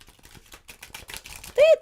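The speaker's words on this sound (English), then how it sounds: "Just going to go ahead and shuffle." A deck of large Meryl Tarot cards is shuffled by hand, producing a quick run of soft, dry card clicks and flutters close by, with a brief vocal sound at the end.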